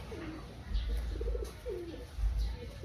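Racing pigeon cooing softly, a few low repeated coos close by over faint background hiss.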